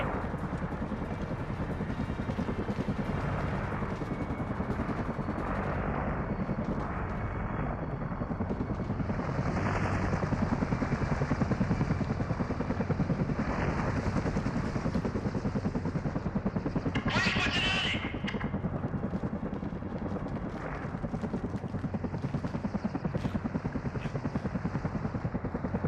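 A military helicopter in the Call of Duty Modern Warfare campaign roars steadily and loudly throughout, with gunfire bursts, shouted voices and a sharp burst of high noise near the middle.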